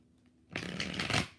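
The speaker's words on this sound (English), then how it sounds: "4 shuffles." Tarot cards are riffled in a single brisk shuffle, a dense papery burst lasting under a second after a short near-silent pause, close and fairly loud.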